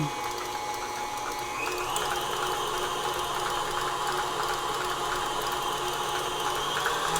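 An electric mixer beats apple ricotta cake batter at medium speed, giving a steady, close mechanical whir with a fine rattling, gear-like texture and no voices over it.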